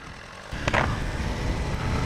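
A Suzuki GSX-R1000R engine hums steadily beneath wind noise while the bike is ridden along a smooth road, growing slightly louder about halfway through.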